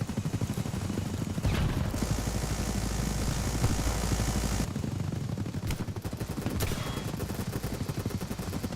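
A helicopter in a shooter video game thrums with a dense, continuous rotor drone, mixed with bursts of gunfire and a sharp shift midway.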